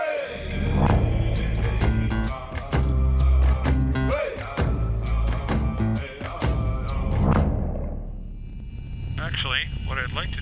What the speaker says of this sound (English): That's the sound of two local hero pilots, Roger Jameson and Ken Dewick, working out how to land an Airbus H-135 helicopter